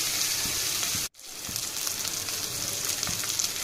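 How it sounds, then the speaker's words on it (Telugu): Gongura leaves fry in a pan with a loud, dense, steady sizzle close by. It cuts out for a moment and then resumes with faint scattered crackles. "బాగా ఫ్రై అవ్వాలి"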